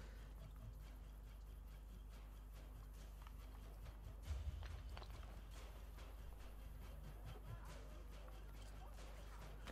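Horse hooves clopping in Assassin's Creed Brotherhood, a quiet steady trot of clip-clop beats over low ambient rumble, with one slightly louder thud midway.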